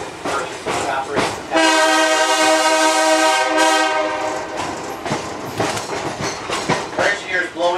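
A locomotive horn on the Pittsfield & North Adams line blows a long sustained blast for railworks construction gangs, then shorter toots, over rumbling wheels and rail clatter.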